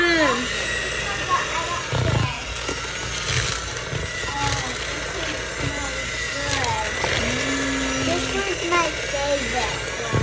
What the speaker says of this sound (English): we're gonna mix it all up and get this mixing